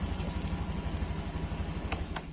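A Honda Beat Street scooter engine runs at a steady idle, a close pulsing low putter with a constant high whine and two faint clicks near the end, no talk.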